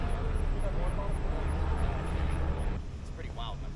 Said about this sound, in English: I think that's a news chopper up there.